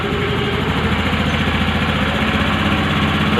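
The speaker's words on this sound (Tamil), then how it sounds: "இப்போ நம்ம ஐலிங்கை கொஞ்சம் இன்க்ரீஸ் பண்ணுறோம்." A scooter engine idles with its idle speed raised, a loud, steady, even thrumming that holds constant throughout, close up and alone.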